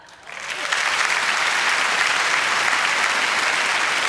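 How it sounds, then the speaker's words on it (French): Applause from a comedy show audience at a French-language stand-up set by Julie Caron, rising quickly over the first half second into a loud, dense, sustained wash of clapping that holds steady throughout. "applaudissements."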